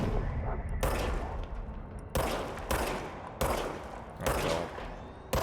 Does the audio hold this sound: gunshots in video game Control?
yes